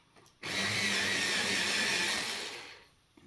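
An electric pencil sharpener grinds a colored pencil in one steady whirring burst of about two and a half seconds, close and clear, fading out at the end.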